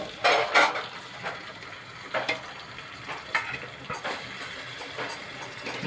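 Tomatoes hitting a pan of frying onions, green chillies and cumin, with a steady sizzle and the clatter of stirring and scraping close by.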